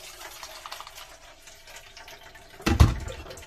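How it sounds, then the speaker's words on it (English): Blended coconut milk for Jamaican-style cassava pone being strained, heard as a brief, fairly close burst of liquid splashing and pouring near the end after a quiet stretch. "I'm gonna strain some more milk off this"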